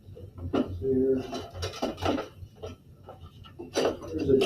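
A small high-speed steel drill bit clinks and rattles against other metal tools and pieces while being handled, giving irregular close metallic taps and scrapes with speech around them.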